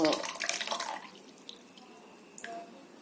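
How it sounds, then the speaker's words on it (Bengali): Tap water running into a container in a home kitchen, a splashy gush at the start that settles into a quieter trickle with occasional drips. "জলটা একটু ভরে যাক"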